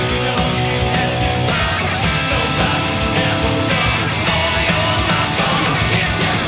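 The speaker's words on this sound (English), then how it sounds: "we've got a little 4-bar pre-chorus here that effectively we're just climbing up kind of 4 chords" Electric guitar plays the climbing four-chord pre-chorus of a funk rock song, dense and loud throughout with rhythmic strumming and no talking.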